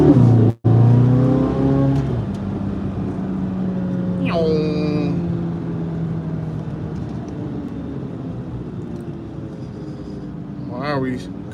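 A Corvette Z06 sports car engine hums steadily with talking over it, a brief rev partway through and another rising rev near the end.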